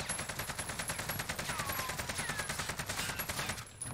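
Steady full-auto AK-47 fire in Call of Duty Cold War, a fast even rhythm of shots held continuously for nearly four seconds before it stops.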